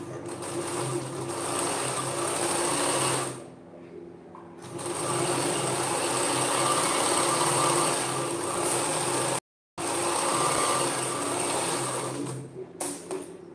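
A sewing machine runs a steady, fast stitching whir while sewing a blouse's round neckline, stopping briefly twice before starting again, with no talk over it.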